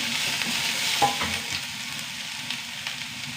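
Onion and green chili fry in heated oil, giving a steady, dense sizzle with a few faint stirring taps, close and with no voices.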